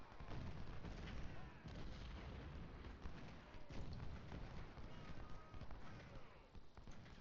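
Artillery fire in the video game Ultimate General Civil War at the First Battle of Bull Run: a steady, dense rumble of cannon booms and distant gunfire that carries on throughout, with no talk over it.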